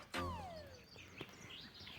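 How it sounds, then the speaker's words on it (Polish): A single clear bird call with a long descending whistle near the start, followed by faint outdoor background sounds. "Ptaszki śpiewają."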